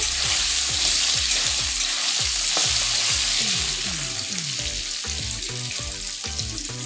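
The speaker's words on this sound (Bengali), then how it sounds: "আলুটাকে ভালো করে ফ্রাই করে নেব" Skin-on potato pieces fry in hot oil for a Bengali green jackfruit curry, a close, steady sizzle with regular scraping stir strokes throughout and no voices.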